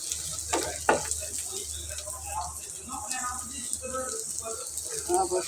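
Pointed gourd slices frying in a pan, a steady bright sizzle with a couple of sharp clatters near the start, running under a voice speaking throughout.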